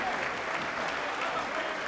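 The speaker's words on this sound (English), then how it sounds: "Big round of applause there for Daniel Mendes." Crowd applause at a boxing event during a Southern Area cruiserweight title bout, a dense, steady clapping roar filling the hall while a commentator talks over it.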